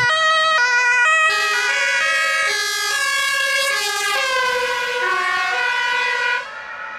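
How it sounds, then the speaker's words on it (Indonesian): A toy ambulance plays an electronic siren, stepped two-tone wails followed by a sweeping rising and falling tone, loud and close with no talking over it, cutting off near the end. "Wow, ada mobil ambulan."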